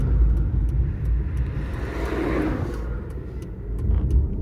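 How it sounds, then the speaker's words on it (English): A red car speeds past on a Western Sydney road, its loud engine rush swelling and fading over about four seconds amid steady traffic rumble, with no talk. "You're about to see a red car go flying past."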